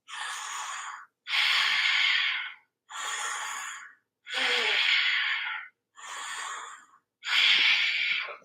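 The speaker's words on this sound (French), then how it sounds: "On fait 4 respirations Ujjayi ensemble." Slow Ujjayi yoga breathing during a beginner vinyasa session: six long, audible, ocean-like breaths alternate in-and-out with short pauses, close and steady, with no talking.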